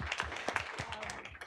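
A brief burst of audience applause at a panel on women founders, with scattered claps rising and fading quickly, fairly faint and mixed with a little crowd noise.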